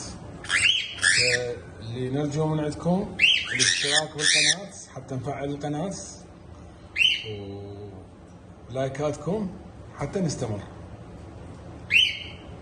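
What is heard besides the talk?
cockatiel calls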